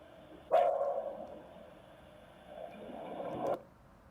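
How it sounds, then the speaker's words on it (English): A dog barks twice in a played-back surveillance recording at night, each a single muffled, distant-sounding woof with a short tail, separated by about two seconds of low background hiss. "after the 43-second dog bark, if you listen real close, you'll hear the car taking off"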